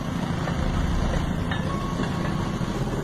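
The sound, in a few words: train passing on old railway track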